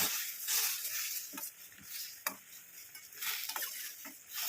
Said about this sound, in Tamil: இப்போ நமக்கு சுகர் வந்து இதில் மிக்ஸ் ஆகட்டும்.